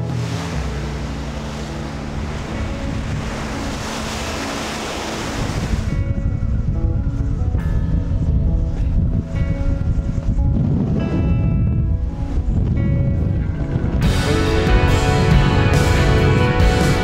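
Rough seas of the Drake Passage on the way to Antarctica: a steady roar of wind and breaking waves against the ship, with gusting wind noise on the microphone, loud and continuous throughout.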